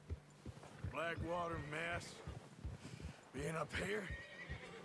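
Horses neigh and whinny with clip-clopping hooves in the open-world western game Red Dead Redemption 2, the whinnies rising clearly over a steady background while someone talks throughout.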